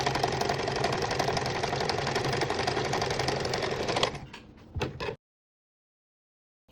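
A Simplicity 8220 sewing machine stitching at a short stitch length of 2, a loud, close, rapid steady whir with fast needle clatter that runs for about four seconds, then slows into a few separate stitches and stops.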